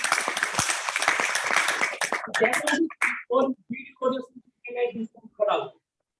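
Seminar audience at a Hindi-language training session claps in a dense burst for about two seconds, then it fades into scattered voices and talk.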